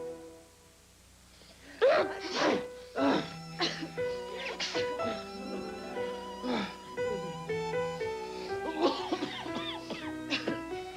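A few sharp sneezes and coughs burst out close by in a 1986 NyQuil TV commercial, separated by short pauses, with some chatter and noise around them.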